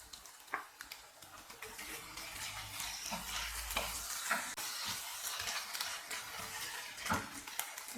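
Onion with ginger garlic paste fries in a pan for a Pakistani taro root and onion dish, sizzling steadily while a spoon scrapes and stirs at an uneven rhythm, close and moderately loud, with no talking.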